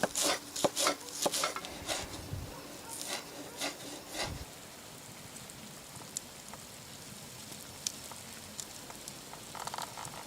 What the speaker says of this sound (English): Chop the green onions.